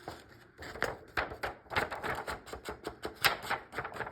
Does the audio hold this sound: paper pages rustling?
yes